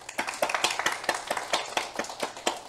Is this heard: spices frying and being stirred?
no